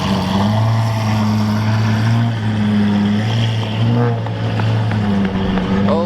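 Lamborghini Tecnica sports car driving past, a loud, steady engine drone with a droning hum that rises and falls as it passes close by.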